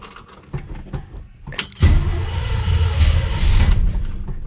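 A 1961 Pontiac Laurentian engine is cranked and catches, a few clicks and starter whirs giving way to a loud, rough, steady idle rumble close by.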